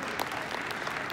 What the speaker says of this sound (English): And yes, please clap.